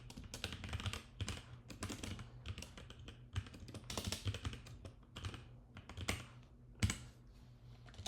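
Code is typed on a computer keyboard in quick irregular bursts of crisp key clicks, close and quiet, with brief pauses between runs of keystrokes.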